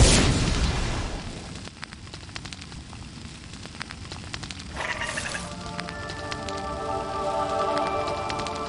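Fire seeds bursting in a fire as a dragon egg hatches in a Harry Potter video game, a roaring whoosh and crackling burst followed by a shimmering, ringing magical tone, fairly loud with no speech.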